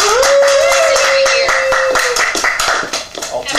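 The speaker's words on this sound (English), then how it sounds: "All two people are clapping." Sparse clapping from just two people as a guest is welcomed on a talk show, a few distinct hand claps in a small room with a short sustained tone and some background voices.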